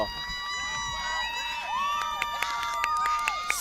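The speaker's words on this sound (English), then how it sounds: "you hear the cheers from everybody in the crowd" Spectators at a high school varsity game cheer after a goal that puts the Prep ahead, a lively crowd roar with shrill whistles and shouted cries ringing over it at moderate distance.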